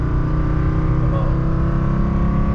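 A Fiat 126p engine running at overly high revs holds a steady, loud droning hum without letting up, close by, with no talk over it.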